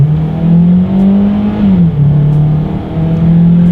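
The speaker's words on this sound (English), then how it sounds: "So it makes a lot of noise when you really give it the gas" A 2019 Hyundai Tucson with a naturally aspirated four-cylinder engine accelerating hard, a loud, steady, droning engine note that climbs, briefly dips at a gear change, then rises again, close and continuous.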